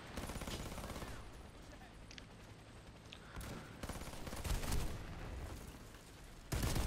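Gunfire aimed at a vehicle in the video game Warface, dense overlapping bursts and crackling shots, fairly quiet and somewhat distant, with sharper hits near the end and game voices mixed in.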